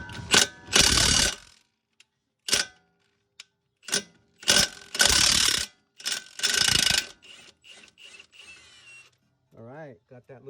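A Milwaukee impact gun breaking loose a shock bolt on a Lexus IS250, heard as several loud, close bursts of rapid ratcheting hammering separated by pauses, with a voice speaking near the end.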